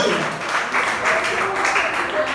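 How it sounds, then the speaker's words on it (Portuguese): Church congregation applauding during a service, a steady wash of clapping close by, with a voice speaking over it. "Aplauda o Senhor em nome de Jesus, porque ele merece."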